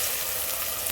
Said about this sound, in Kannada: ಅರಿಶಿನ ಹಾಕ್ಕೊಂಡು ಫ್ರೈ ಮಾಡ್ಕೊಳ್ತೀನಿ